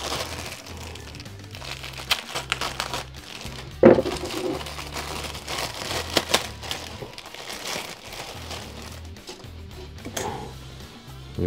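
Plastic packaging of a model kit is handled and opened, with crinkling, scattered cracks and one sharp snap over a low, steady background hum.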